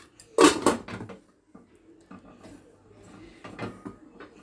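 Lid set onto a frying pan on the stove during breakfast cooking, giving a sharp metallic clatter near the start, followed by softer kitchen handling noises and light movement.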